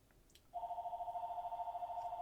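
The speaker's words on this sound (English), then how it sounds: "That is a phone." A telephone starts ringing after a brief quiet moment, holding a continuous warbling electronic ring at moderate distance, fairly faint and with no one speaking.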